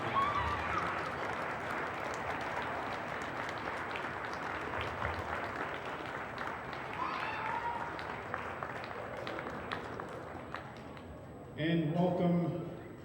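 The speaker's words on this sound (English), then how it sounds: "let's stand and have an appropriate round of applause for our senior basketball players" A standing crowd gives senior players a sustained round of applause in a gym before a girls' high school basketball game, dense steady clapping for about eleven seconds, then voices and an announcer-like burst rising near the end.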